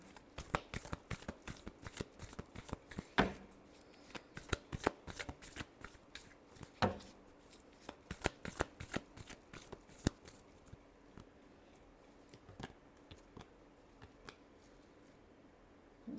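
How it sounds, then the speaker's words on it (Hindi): Tarot cards are shuffled by hand in a quiet room, a long run of close, crisp riffling flutters and soft slaps that come in quick bursts with short pauses between them. "last shuffle"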